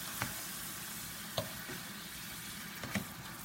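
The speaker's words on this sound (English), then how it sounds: "And here we are, we're going to stir it." Ackee and saltfish sizzles in a pan as it is stirred, a steady frying hiss broken by a few soft scrapes and taps from the spoon, close and fairly quiet.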